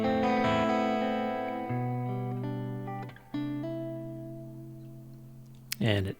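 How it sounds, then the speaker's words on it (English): Sustained guitar chords ring out with a short, small-room reverb tail, changing chord a few times before a sharp pick noise at the end. "at heel down, I want it to be a little smaller sounding reverb"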